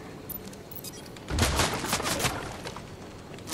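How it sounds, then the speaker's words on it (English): Gunfire in the Fortnite video game starts as a few faint pops, then becomes a loud rapid flurry of shots lasting about a second before trailing off into scattered cracks. "We're being shot."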